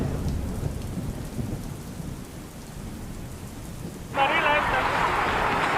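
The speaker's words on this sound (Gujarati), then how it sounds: "રાજકોટમાં અનરાધાર વરસાદની શરૂઆત થઈ ચૂકી છે" Heavy monsoon rain pours over city streets in the Popatpara area of Rajkot: a dense, steady roar of rainfall that suddenly swells louder and hissier for the final stretch.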